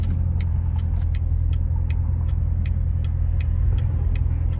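A 2017 Chevrolet Corvette Z06 3LZ driving gently, with a steady low engine and road rumble throughout and faint regular ticking above it.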